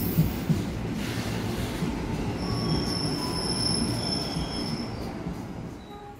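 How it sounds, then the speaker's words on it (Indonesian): Service locomotive and rail cars on track 7 at a busy Jakarta station, wheels squealing in long high whines over a steady rumble, fairly close and continuous with no talk. "Lokomotif dinas jalur 7."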